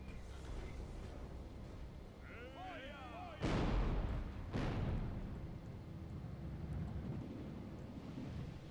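Cannons in Medieval II fire at a distant tower: two heavy booming blasts land about a second apart, each with a rumbling tail over steady battle ambience, with a few brief high whistling calls before them.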